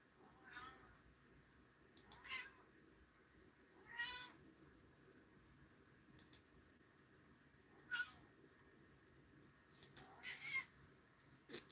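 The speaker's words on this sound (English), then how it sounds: "My cat's being noisy." A house cat meows repeatedly, roughly every two seconds, in short faint calls against a quiet background.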